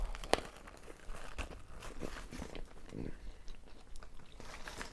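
Crunchy bites into a pepper and wet chewing, with a sharp crack near the start and steady mouth noises throughout, close up and fairly quiet.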